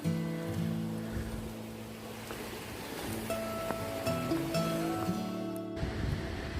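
A clear river at a trail crossing on Porters Creek Trail in the Great Smoky Mountains flows and churns steadily up close, a continuous rushing wash with faint clinks and rustles mixed in.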